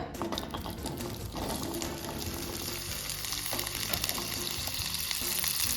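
Boiled, pre-soaked chickpeas frying in hot oil, a steady close sizzle and crackle running throughout with faint stirring clatter.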